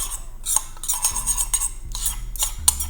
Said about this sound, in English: and I mix that up.